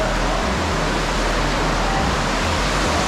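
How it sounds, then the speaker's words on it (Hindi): Water rushing beneath the old mill at Warwick Castle, a loud, constant roar of flowing river water close by, steady and unbroken with deep low-end rumble. "ये देख सकते हैं नीचे पानी गुजर रहा है"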